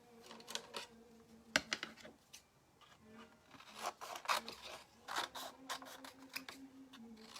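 Scissors cut out a paper figure for a shaker snow jar craft, making quiet, close snips and rustles in irregular bursts.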